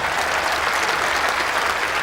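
A crowd at a cricket ground applauds loudly and steadily, a continuous wash of clapping filling the whole moment.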